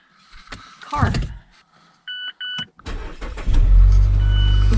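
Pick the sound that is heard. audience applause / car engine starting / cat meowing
car engine starting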